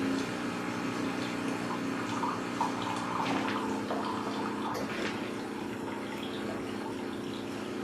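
Wittenborg 9100 two-coffee vending machine running its full rinse cycle, a steady close whir of pump and flowing water with faint drips continuing throughout, no talk.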